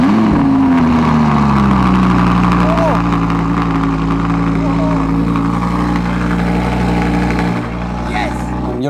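Audi R8 supercar with a Zen-Rage aftermarket exhaust, its engine idling with a loud, deep, steady rumble and a brief dip near the end.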